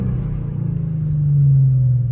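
A lowered Infiniti G37 downshifts, giving a close engine rumble that swells and rises in pitch toward the end of the clip. No voices are heard.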